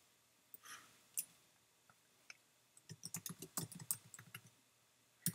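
Keys clatter on a computer keyboard in a quick burst of typing, with a few scattered clicks beforehand, close and fairly clear in a quiet room.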